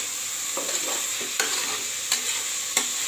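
Vegetables for vegetable pulao sautéing in a little oil, a steady sizzle broken by four or five sharp spatula taps and stirring scrapes, close and without speech.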